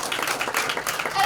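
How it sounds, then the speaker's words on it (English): A studio audience at a divorce-themed talk show breaks into dense, steady clapping and crowd noise, close and loud for a short burst, blended with voices. "Clap for that."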